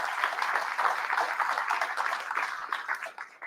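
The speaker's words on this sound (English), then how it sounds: "So give yourselves a round of applause for showing up." Steady applause from a crowd, dense clapping sustained throughout and tapering off slightly at the end.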